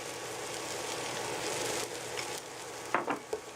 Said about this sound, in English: now we want to add our egg